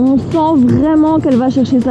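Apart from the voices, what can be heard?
No distinct noise like a dog, phone or traffic.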